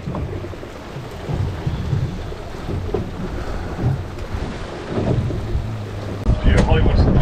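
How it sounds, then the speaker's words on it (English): Steady rain patters on shelter during an inshore mackerel fishing session, a dense constant hiss with low rumbling gusts and louder bursts toward the end. "we're just sheltering from the rain here"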